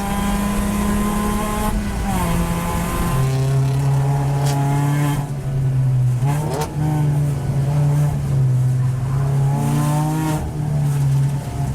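A race car lapping in an endurance race at Clark Speedway, its engine droning steadily with gear shifts and shifting pitch, loud and continuous without talk.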